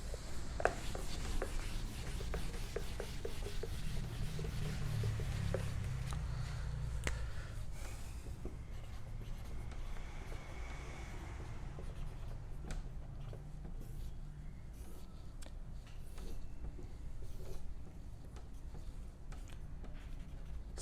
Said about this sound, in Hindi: तो इसको मैं रब कर देता हूँ